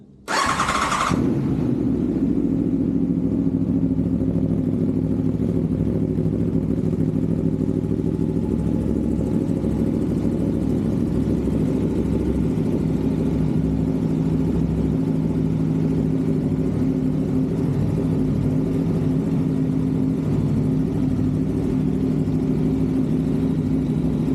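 Aprilia V4 Tuono motorcycle engine cranks and catches with a sharp burst, then settles into a loud, steady, throbbing idle that runs uninterrupted close to the mic.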